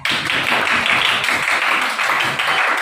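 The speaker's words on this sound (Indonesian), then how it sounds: "tepuk tangan untuk teman kita" A classroom full of high school students claps together, a dense, loud patter of hands that continues steadily throughout.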